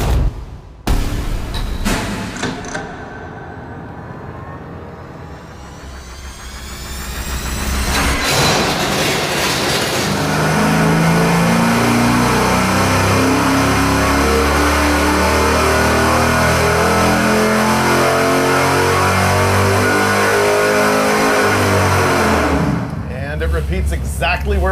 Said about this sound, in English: we got the 410 hung on the dyno